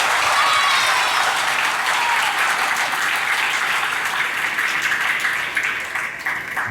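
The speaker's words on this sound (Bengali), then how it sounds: "করতালির মাধ্যমে তাদেরকে আমরা স্বাগত জানাবো।" An audience claps steadily to welcome guests at a formal event with a deputy speaker present, a dense and sustained burst of applause that thins slightly toward the end.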